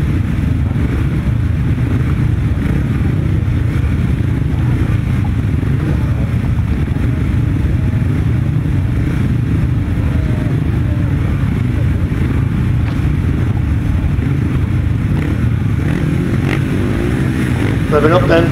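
Upright solo grasstrack motorcycles at the 2019 South Midland Grasstrack Championships: a loud, continuous engine drone and revving carries through the whole stretch, with a commentator talking over it.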